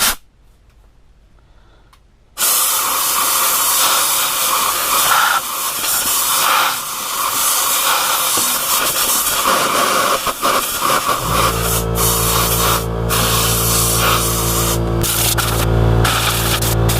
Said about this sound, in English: the compressor actually might get loud while I'm doing this